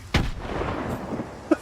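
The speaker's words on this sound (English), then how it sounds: "What if I just hucked a grenade in there?" A thrown grenade detonates in the video game Stalker 2, a single sharp blast followed by a rumbling tail and a second smaller pop just before the end, heard alone at moderate level.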